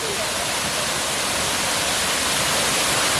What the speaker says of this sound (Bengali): অনেকটা এলাকা নিয়ে জায়গাটা অসাধারণ জলপ্রপাত অসাধারণ